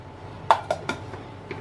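Fresh coconut slices dropped into a mixer jar, heard as three quick, close clinking knocks followed by a couple of fainter taps against a quiet background.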